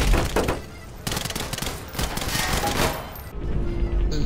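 Rapid, loud automatic gunfire in the video game Garry's Mod, crackling in dense bursts with a brief pause, and a voice briefly heard.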